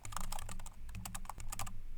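Keys clacking on a computer keyboard as a name is typed in Korean, a steady run of close, crisp keystrokes in quick bursts with no talking.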